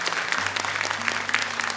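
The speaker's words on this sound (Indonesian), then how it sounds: "Boleh tepuk tangan untuk Dewan Juri kita." An audience applauds the jury at a televised Quran memorization competition, a short burst of dense clapping, fairly close and steady throughout.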